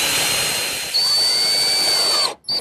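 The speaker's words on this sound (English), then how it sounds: "Just center it, and I'll install 4 screws." A power drill drives screws into a wooden pedestal table hub mounted under the top, a steady high whine that holds for a couple of seconds, then stops and gives a short final burst, loud and close.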